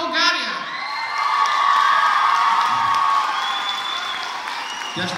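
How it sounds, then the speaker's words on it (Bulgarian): Audience applause and cheering for a young singer's performance in Bulgaria: steady, dense clapping that swells and holds for several seconds, mixed with scattered shouts and whoops. "Аплодирайте всички с бурни овации."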